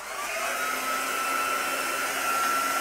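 Heat gun drying patina paste on a mirror, blowing as a steady, loud, continuous whirring hiss with a faint whine and no breaks.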